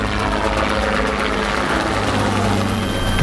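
An Indian Air Force helicopter flies at high altitude, its rotor and engine producing a loud, continuous throbbing roar that holds steady without a break.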